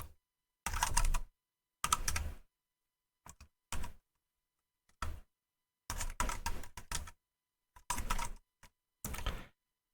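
Bursts of close, crisp keystrokes on a computer keyboard come in short clusters separated by silent pauses, with no voices.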